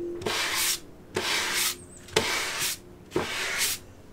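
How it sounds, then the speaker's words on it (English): Sandpaper rubs by hand along the thin edge of a DIY Sprinter van kitchen countertop in four steady, close strokes, each a soft rasping swish separated by short pauses. "you want to sand it just to smooth out that edge"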